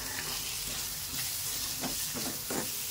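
Peas frying in a garlic-green tempering, a close, dense sizzle and hiss of hot oil with a few soft stirring scrapes, steady throughout with no voices.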